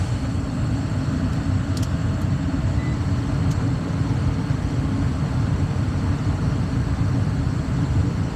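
A Trane furnace's main blower motor runs steadily, making a loud, even whooshing hum with a deep rumble and no breaks.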